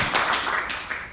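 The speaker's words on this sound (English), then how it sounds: "Let's give everybody a round of applause." A meeting audience gives a brief round of applause for new members, a short burst of scattered hand claps that quickly thins out.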